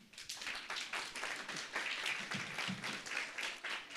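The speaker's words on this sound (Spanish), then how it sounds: "Aquí muchos aplausos aquí para Moisés" A church congregation claps through a special Father's Day service, a steady patter of many hands that stays fairly even and moderately loud across the whole stretch, with no voices standing out.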